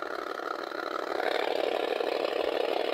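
Engine noise from a 1980 Kenner Redline electronic drag racing game, a steady buzzy electronic drone that holds loud and unbroken throughout, with no talking.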